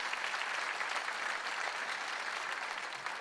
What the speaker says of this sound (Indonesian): kita tepuk tangan yang paling meriah bagi mereka